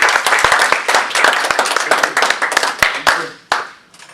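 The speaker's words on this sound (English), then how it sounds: "This is where we're supposed to clap." An audience bursts into clapping, brisk and close, a dense patter of hand claps that thins toward the end with a few final loud claps; a voice may murmur faintly underneath.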